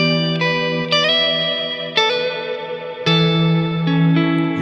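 Electric guitar played through a Neunaber Immerse or Wet stereo reverb pedal, with warm, bass-heavy reverb: sustained chords struck several times, each ringing out into a lush, smooth tail, loud and close with no voices.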